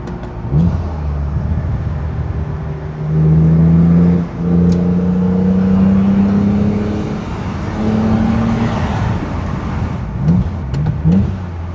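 A BMW E31 850i with its V12 engine running while driving, a steady low droning hum with tonal engine harmonics rising and falling gently as the car accelerates and settles, heard from inside the cabin without talk.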